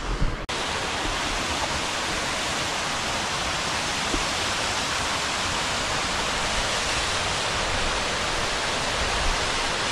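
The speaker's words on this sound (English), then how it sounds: "Let's have a wee look at this waterfall" A mountain waterfall in winter hills roars as a steady, dense, unbroken rush of falling water, loud and close, with no voices over it.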